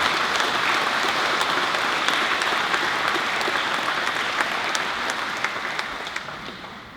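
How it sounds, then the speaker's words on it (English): A school awards presentation audience applauds students for their sport achievements with steady, dense clapping that fills the hall and fades slightly toward the end. "Can you please give these students a round of applause?"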